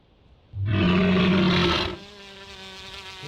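Lotosaurus dinosaur call in the game Carnivores Triassic: a loud, harsh roaring bellow with a buzzing rasp lasts over a second, then drops to a quieter lingering tonal drone.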